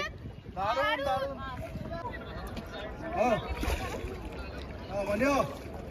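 A shikara ride on Dal Lake in Srinagar, with steady wind and water noise around the boat as people chat over it throughout.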